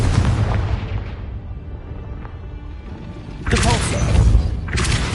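In Hogwarts Legacy on PS5, a Confringo spell explodes with a loud, booming burst that follows a stretch of lower combat rumble, then a second blast flares shortly after.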